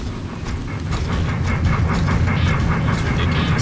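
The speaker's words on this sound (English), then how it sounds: "that dude just ran into the train" In the video game ArcheBlade, a train rumbles past close by with a loud, continuous rolling roar and rhythmic clatter that builds and holds steady.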